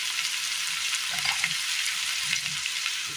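Chopped capsicum and beans frying in a pan for a Kerala mezhukkupuratti with brinjal, a steady close sizzle broken by a few soft stirring scrapes, no voices.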